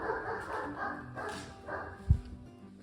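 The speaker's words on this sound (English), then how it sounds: "got the dogs upset" Dogs bark in the distance during work on a 1940 Ford trunk repair: one sharp bark stands out clearly among several fainter barks, and the only other sounds are low shop noise.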